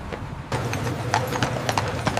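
Hooves of a horse pulling a carriage clip-clop in a steady, moderately close rhythm on a city street in Times Square, with faint background murmur.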